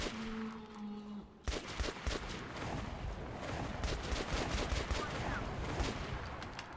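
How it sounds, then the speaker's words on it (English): Sustained gunfire in the video game Metro Last Light, dense fusillade of rapid shots and machine-gun bursts continuing loudly after a brief quieter opening, with someone talking over the action. "She's got some good shooting going on right there"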